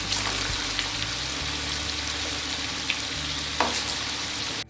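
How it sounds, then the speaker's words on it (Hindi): Falafel deep-fry in hot oil with a dense, steady bubbling sizzle, close and unbroken for several seconds. A few soft clicks and scrapes of a utensil sound now and then, and no one speaks. "इसी तरह से हम और भी फ्राई कर लेंगे।"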